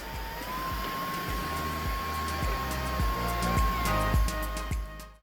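An xLean TR1 floor-washing robot in handheld mode cleans up spilled coffee on a floor, giving a close, steady whirring motor drone with a high whine and repeated rhythmic clunks that fade out at the end.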